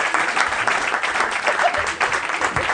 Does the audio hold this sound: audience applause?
yes